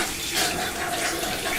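Strong alkaline Kangen water at pH 11.5 runs from a tap onto a fresh cloth in a salon, a steady close splashing flow without a break.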